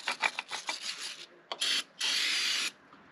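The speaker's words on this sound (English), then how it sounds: "Brake clean and a wire brush seem a perfectly good way to prep this." A wire brush scrubs the painted block of a Chevrolet Blue Flame Stovebolt Six, prepped with brake clean, in short rasping strokes, then two sustained bursts of hard scraping, close and fairly loud with no talk.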